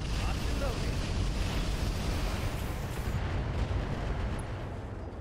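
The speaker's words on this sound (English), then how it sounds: "we're going to drop another thumper round on their thumper. Firing a full salvo." A full artillery salvo fired in the mech strategy game RogueTech: a dense, loud rumbling roar that holds steady for several seconds before easing off slightly.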